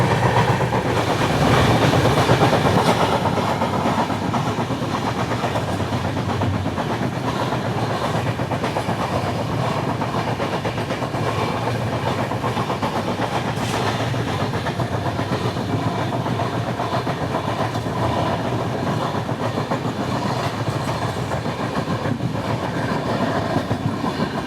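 Ajanta Express train running on Indian rails, a steady loud rumble with rhythmic clickety-clack of wheels, heard from on board, continuous with no talking.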